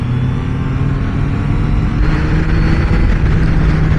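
A Triumph Trident 660 three-cylinder motorcycle engine pulls hard under acceleration, a loud, close, continuous rumble that swells slightly toward the end, with no voices.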